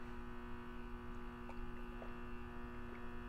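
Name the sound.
sprinkler system pump humming outside the room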